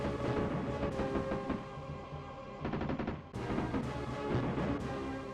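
Rapid machine gun bursts from a 16-bit Jurassic Park 2 SNES shooter, dense and loud, layered over busy game music with sharp explosive hits and continuous action noise throughout.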